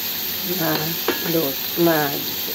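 Cherry tomatoes frying in a pan give a steady soft sizzle, with a few brief stirring scrapes, while someone speaks over the cooking.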